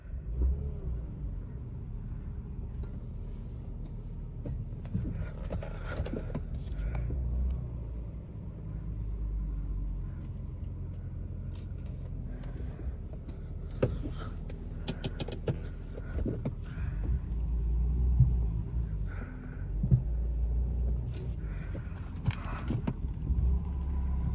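A BMW E46 car on a short test drive after a handbrake replacement, with a steady low engine and road rumble throughout the interior and occasional faint clicks and whirs, no talking.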